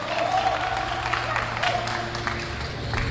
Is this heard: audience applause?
yes